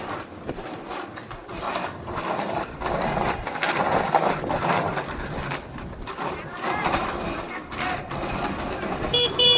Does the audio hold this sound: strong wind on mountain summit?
no